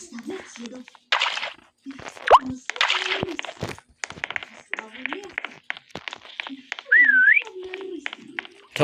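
Voices chatter over Roblox Meccha Chameleon game effects: popping plops and a short wavering whistle tone that rises and falls near the end.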